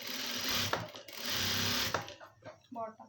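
A sewing machine stitching fabric, two loud sustained whirring runs separated by short pauses, close by, with a voice speaking briefly after the stitching stops.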